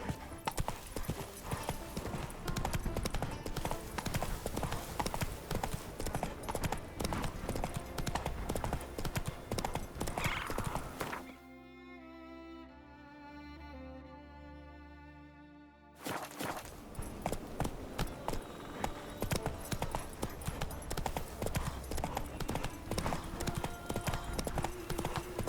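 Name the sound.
Roach the horse galloping in video game The Witcher 3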